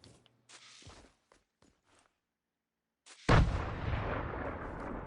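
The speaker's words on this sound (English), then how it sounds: "That nade hit right there." In a Fortnite match, a grenade explodes against a building with one sudden, loud, booming blast that trails off into a rumbling decay, preceded by a few faint footsteps and small in-game sounds.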